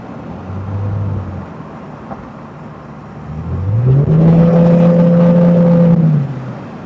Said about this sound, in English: Look how great this car handles, and fast too.